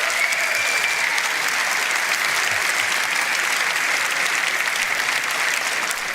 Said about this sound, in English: Please give a round of applause for Chris Rose and Vanessa Callow.